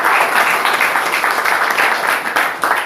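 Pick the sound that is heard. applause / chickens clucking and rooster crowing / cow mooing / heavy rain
applause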